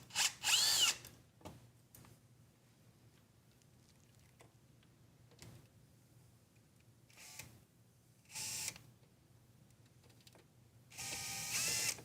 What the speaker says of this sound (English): we're going to be removing our screws from here